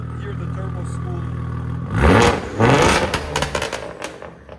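A 2001 Audi S4 2.7L V6 with straight-pipe exhaust revs up suddenly after a low idle. Turbo whoosh and spool rise with the engine in two close surges, then fade into crackling pops.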